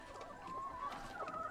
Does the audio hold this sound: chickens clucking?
yes